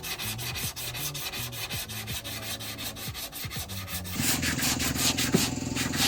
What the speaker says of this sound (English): using multiple different types of sanding blocks, we were able to shape up this quarter panel